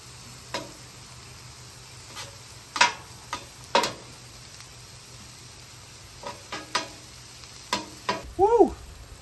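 Butter and about a tablespoon and a half of flour cooking on a flat griddle, a faint sizzle broken by scattered scrapes and taps of a utensil, with a brief squeaky squirt near the end.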